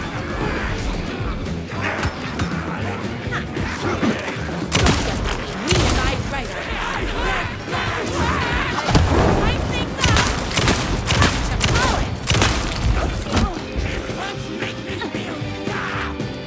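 Heavy gunfire in the Alan Wake video game: loud, dense bursts of shots and impacts crowd together over a continuous action soundtrack, with crashes scattered throughout and no break in the barrage.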